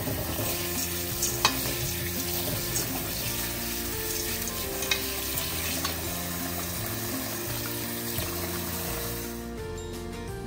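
Chicken simmers and fries in a pot in a home kitchen, giving a continuous sizzling bubble with occasional sharp clinks of stirring, close and steady, with no voices.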